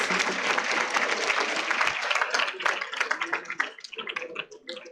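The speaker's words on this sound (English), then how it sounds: "May I request the audience to welcome them with a warm round of applause" Warm audience applause welcoming panelists to the stage at a university panel discussion, full steady clapping that thins into fewer, separate claps toward the end.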